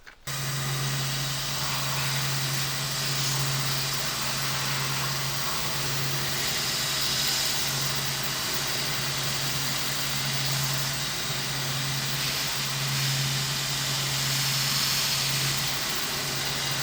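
A shoe-repair machine grinds and scours the sole of a golf shoe in a cobbler's workshop, a continuous steady mechanical whir with a low hum running alone at an even level.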